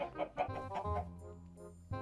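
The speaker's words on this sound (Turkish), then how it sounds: "Evet tavuklarımızı görüyorsunuz." Chickens in the video game Minecraft give a quick run of clucks, several short close calls in a row followed by a pause and another cluck.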